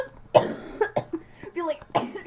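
Someone coughs close by, several short harsh bursts separated by brief pauses.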